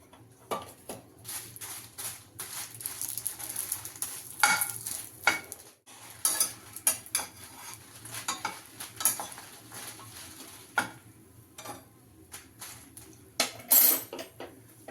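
Byadgi chillies fry in a little oil in a pan, a faint sizzle under frequent close clinks and scrapes of a spoon stirring against the metal, with no voices.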